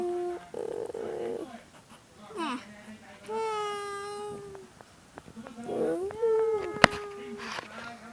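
A cat meows repeatedly at close range, with several drawn-out, wavering meows of varying pitch separated by short pauses, loud and clear over soft room noise.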